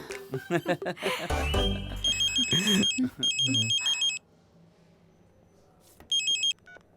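A telephone rings in a scene from a dubbed South Indian romantic film, giving several bursts of a bright electronic ringtone, close and clear, first partly over music and a voice and then alone in the quiet that follows.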